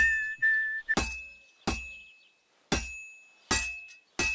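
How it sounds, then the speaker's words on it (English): Five sharp metallic hammer strikes ring out on a sword against an anvil at a medieval smithy in Kingdom Come Deliverance 2, each clang close and loud with a long ringing decay, preceded by a brief whistled tone. "Now take the hammer and try hitting it a few times."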